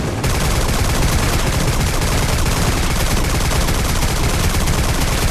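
Gunfire in a beta of an FPS video game: a loud, dense, unbroken stream of rapid automatic shots filling the whole stretch, close and harsh, with no talking.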